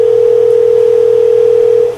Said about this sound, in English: The ringing comes through,